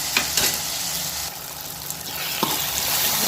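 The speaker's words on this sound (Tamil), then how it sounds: "தக்காளி, பச்சை மிளகாய் சேர்த்து வெங்காயத்தோடு நல்லா வதங்கணும்." Tomatoes, green chillies and onions sautéing in a pan for fish curry give a steady close sizzle with a couple of quick stirring knocks.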